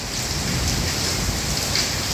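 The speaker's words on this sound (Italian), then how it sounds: "Sentite un po', c'è anche la grandine." Heavy rain mixed with hail pounding down outdoors in Casarsa, a dense continuous hiss and patter, loud and steady with no gaps.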